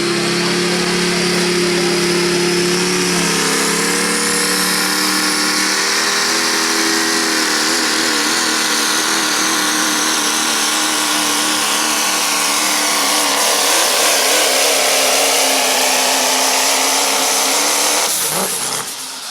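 A four-wheel-drive diesel truck pulls at a county fair tractor pull in Rush City, Minnesota, its engine roaring loud and sustained for many seconds with wavering, rising pitch before dropping off at the end.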